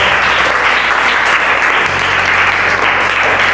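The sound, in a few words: applause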